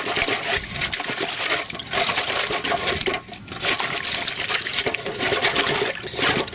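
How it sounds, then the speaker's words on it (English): Something being rinsed off in a bucket of rainwater outdoors, a continuous close sloshing and splashing of water with brief dips in loudness, no talking over it. "Wash it off in a little bit of rainwater here."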